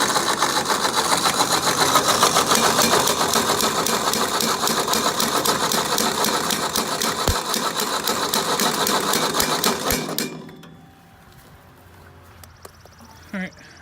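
A small engine on hay-making equipment, just choked, runs with a fast, steady mechanical chatter for about ten seconds, then cuts out, leaving quiet with a few faint knocks.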